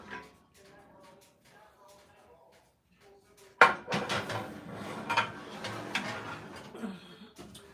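A cooking pan going into a home oven while chicken and biscuits are prepared: after a quiet stretch with faint talk, a sudden loud metallic clank gives way to a busy run of clattering and rattling close by.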